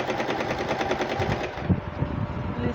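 Sewing machine stitching fabric for a turban cap, a steady close mechanical chatter of rapid needle strokes running continuously, slowing slightly toward the end.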